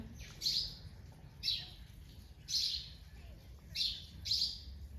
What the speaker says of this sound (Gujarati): આવી ગયા છે ચકલા કાબર ભાખરી ખાવા રોટલી ખાવા